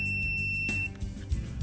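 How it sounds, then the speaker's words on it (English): A digital torque wrench tightening the oil drain bolt on a powersport vehicle gives one steady electronic beep lasting under a second, followed by faint handling clatter. "we're going to torque that and listen for our audible beep"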